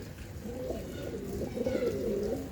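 A large flock of pigeons, around two hundred birds kept for sale, coo together in low, overlapping rolling calls, moderately close and continuous.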